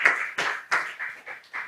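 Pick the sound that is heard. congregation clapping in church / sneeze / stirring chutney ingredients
congregation clapping in church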